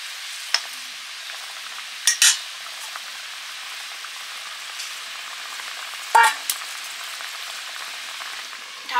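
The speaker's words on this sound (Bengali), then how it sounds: "এবারে দিচ্ছি নুন, হলুদ, লঙ্কা, সর্ষের তেল মাখানো কাঁচা ইলিশ।" Raw hilsa fish coated in salt, turmeric, chili and mustard oil goes into a pan and fries with a steady low sizzle, broken by a few brief clatters and scrapes. No one speaks.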